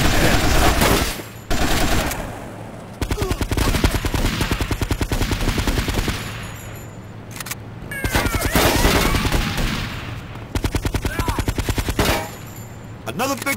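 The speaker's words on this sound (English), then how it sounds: "I'm gonna shoot you" Gunfire in the PSP game GTA Vice City Stories: loud, rapid bursts of automatic fire rattling through the clip, broken by short pauses between volleys.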